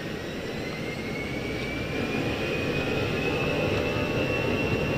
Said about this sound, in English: Takeoff power is set.